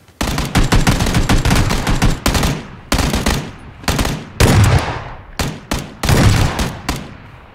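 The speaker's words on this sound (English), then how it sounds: "Shotgun, love it. Saiga 12." A Saiga 12 semi-automatic shotgun fires in PUBG, with a rapid string of loud, punchy blasts followed by several shorter bursts and single shots spread across the clip, all close and dominant.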